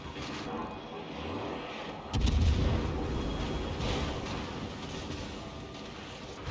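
World of Warships warship main battery firing armor-piercing shells, a heavy booming salvo that jumps up loud about two seconds in and rumbles on under continuous battle noise.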